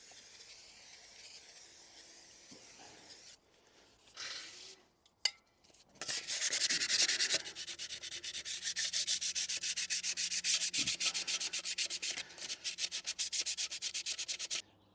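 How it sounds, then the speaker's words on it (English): Wet and dry sandpaper rubs across an engine mating surface on a Land Rover Defender 90, a close, dry scrubbing with irregular strokes, preceded by quieter handling and a sharp knock. "Having given it a bit of a wipe down with some wet and dry and some brake cleaner"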